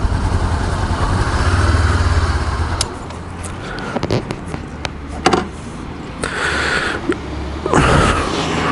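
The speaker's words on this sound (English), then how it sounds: "the 500cc parallel twin rumbling away there" A Honda CB500X with its 500cc parallel-twin engine idles nearby, a steady low rumble with a few blips and shifts in tone, alone with no talk.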